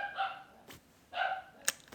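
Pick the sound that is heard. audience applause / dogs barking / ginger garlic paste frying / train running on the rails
dogs barking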